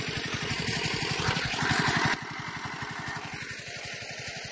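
A crop sprayer's engine running in a tomato field, a steady pulsing mid-pitched drone that grows louder and then drops to a quieter idle about halfway through, close by, with no talking.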